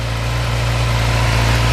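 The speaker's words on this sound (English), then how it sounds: "Okay, so now the idle's settled down and she's got some temperature." A sports bike with a standard exhaust idles steadily after warming up, a low, even engine hum that is close and constant with no revving and no voices.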